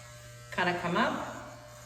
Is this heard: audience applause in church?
no